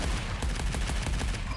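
An assault rifle fires in the video game Arcadegeddon, a rapid steady stream of shots in quick rhythm over a dense low rumble, loud and close.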